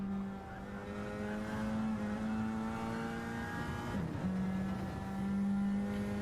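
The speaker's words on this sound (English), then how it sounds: "Quick little upshift there to get the car to stop sliding out to the corner there." Race car in a Nissan Silvia touring championship on the Monza circuit in a racing video game, engine droning steadily at high revs with a brief dip near the middle as it shifts up, then pulling on continuously.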